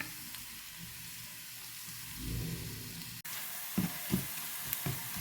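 Fenugreek, dried chilies and curry leaves crackling in hot oil alongside onions for a carrot and bean milk curry: a faint, soft sizzle, then a sudden brief dropout followed by a few light stirring bumps and pops, no voices.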